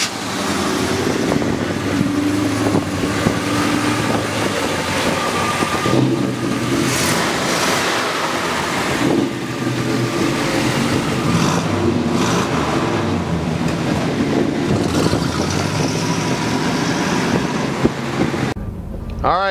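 A 1967 Chevrolet Chevelle SS396 convertible with a numbers-matching big-block engine runs steadily and loudly throughout, with revving swells and someone talking over the engine.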